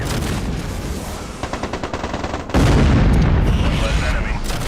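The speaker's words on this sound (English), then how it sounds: "a double explosion sound. But hey, louder explosion sounds mean bigger boom" Explosions in the Mech Commander 2 video game, several rapid bursts in a row and then a loud sustained boom heard up close against a constant background rumble of gunfire.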